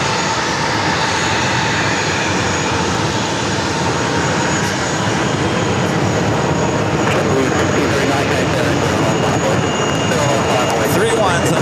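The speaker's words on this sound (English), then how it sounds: "Delta Airlines coming in from Fort Lauderdale, 321neo." A Delta Airlines Airbus A321neo in 100-years livery arrives at JFK from Fort Lauderdale, a loud, constant jet rumble filling the scene from start to finish, with people talking over it.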